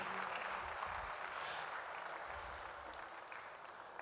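Sustained clapping from a large audience at the Ghana Civil Service Week awards ceremony, an even, fairly faint wash of many hands that tapers slightly toward the end.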